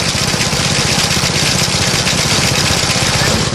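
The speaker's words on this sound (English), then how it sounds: "All powered by Briggs & Stratton engine. Going perfect." Vintage high-grass cutter powered by a Briggs & Stratton engine, running steadily at close range with a loud, even mechanical drone and rapid put-put pulsing throughout.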